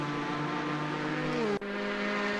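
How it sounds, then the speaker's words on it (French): A throaty V8 engine of a Corvette C8.R LMGT race car in the game Assetto Corsa drones steadily at high revs, pitch dipping briefly as it shifts, then carrying on. "avec ce superbe son de moteur V8 coupleux"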